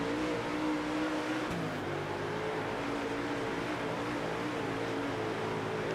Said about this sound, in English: Now we catch this lap car at a really bad spot.